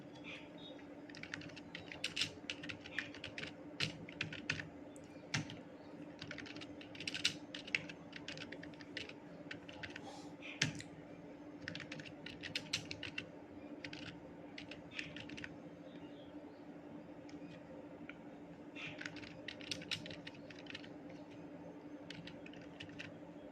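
A computer keyboard is typed on in quick irregular clusters of light clicks, recorded up close over a steady low electrical hum, with brief pauses between bursts.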